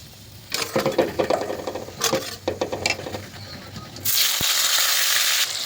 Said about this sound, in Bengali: শুকনো লঙ্কা আর গোটা জিরে। তো এগুলোকে একটু লাল করে ভেজে নিয়ে তারপরে পেঁয়াজটা আমি দিয়ে দেবো